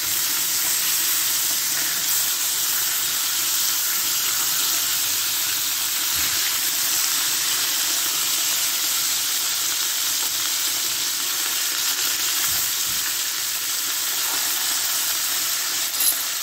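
Food frying steadily in a pan in a home kitchen, a continuous close sizzle with a watery crackle that holds level throughout, no talking over it.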